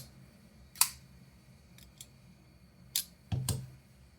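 A Kansept Main Street pocket knife gives a few sharp, close clicks and snaps as it is flicked open and closed, with brief handling noise between them.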